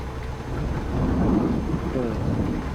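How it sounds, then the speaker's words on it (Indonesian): Thunder during a rainstorm in the Bus Simulator Indonesia video game, a continuous low rolling rumble that swells in the middle over steady rain hiss. "Full petir ya pokoknya tenan, full petir."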